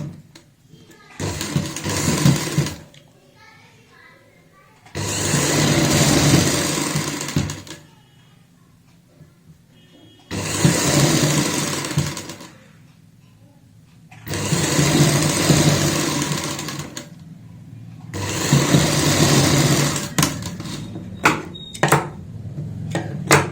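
A sewing machine stitches palazzo fabric in five loud, close runs of fast whirring several seconds each, separated by quiet pauses where the cloth is adjusted, with a few short stuttering bursts at the end.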